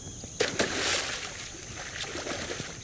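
A swimmer dives into water, giving a short splash and slosh followed by gentle watery movement, fairly quiet with no talking.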